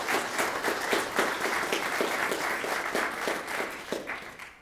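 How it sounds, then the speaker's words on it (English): Applause at a memorial service: a roomful of people clap steadily for several seconds, a dense, even patter that fades slightly toward the end, with no talking over it. "May we give a round of applause for Suzan Hay."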